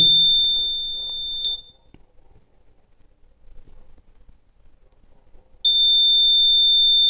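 An alarm from an LM324 and LDR time-delay circuit running on 5 volts gives a loud, steady, high electronic tone. It cuts off after about a second and a half, leaving near silence, then sounds again at the end.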